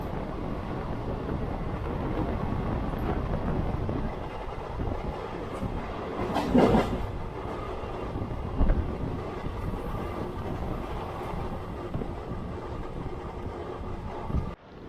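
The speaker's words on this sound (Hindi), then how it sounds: "अभी ट्रेन चली है ओल्ड दिल्ली से" Uttaranchal Sampark Kranti Express rolling out of Old Delhi toward Kathgodam: steady broadband rumble of a moving passenger train with a few clanks and knocks over continuous rail noise, heard from inside a second-sitting coach.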